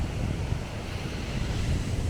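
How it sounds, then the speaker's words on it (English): Strong wind and big ocean waves at a beach in Baja California, a continuous loud roar of surf with heavy wind buffeting the microphone and no talk. "Pretty big wind and waves today."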